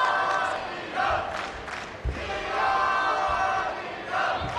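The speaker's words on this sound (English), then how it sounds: "And the Iranian fans, something to cheer about." Iranian fans at the 2019 World Taekwondo Championships in Manchester chant and cheer in rhythmic crowd bursts during a women's –46 kg final, a loud arena roar rising and falling in waves.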